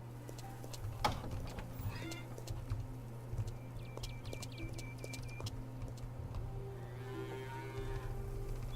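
Cattle on a farm in Farmer's Dynasty moo and low faintly in the distance, over a steady hum, with a few hoof clops and other small farmyard sounds.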